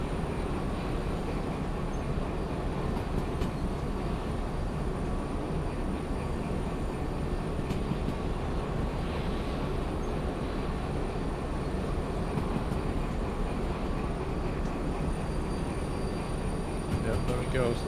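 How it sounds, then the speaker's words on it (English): A heavy freight train in the railway game Derail Valley rumbles steadily around a bend, a loud continuous grinding drone with faint metallic squeals, running unbroken throughout. "weight of the train is trying to push us around this bend now"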